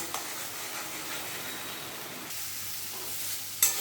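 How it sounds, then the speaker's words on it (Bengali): Spice paste with turmeric and salt frying in a pan for a rohu fish curry, giving a soft, steady sizzle with faint stirring scrapes and a sharp clink at the end. "এবার আমি মশলাটাকে কষিয়ে নেব"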